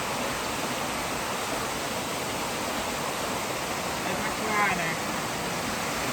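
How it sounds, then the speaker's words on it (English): Second waterfall in the Central Highlands mountains of Vietnam, a steady broadband roar of falling water that stays even and fairly soft across the whole stretch, with a faint brief voice near the end. "this is the second waterfall, and the next is the third waterfall"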